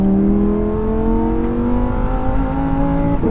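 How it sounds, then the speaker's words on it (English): Lamborghini Huracan Tecnica 632bhp V10 supercar revving hard toward the red line, a loud, continuous rising engine note with strong harmonic whine building steadily throughout, no talking. "the engine just keeps pulling and pulling harder and harder as you close in"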